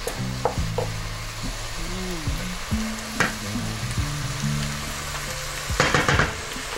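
A beef roll fries in a pan while being stirred, a soft steady sizzle broken by scraping and clinking of the utensil, with a few squeaky tonal scrapes and no talking.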